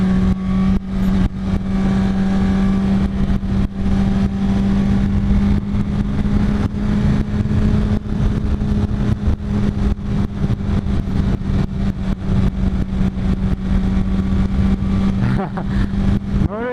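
A 1968 Ford Mustang's engine drones and revs steadily up close as its tires are warmed up, a continuous low rumble with wind noise throughout.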